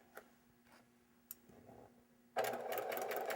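A sewing machine runs at a slow, steady pace while stitching quilt seams for precision piecing, beginning after a quiet start with a few faint clicks and then whirring on at close range with no voices.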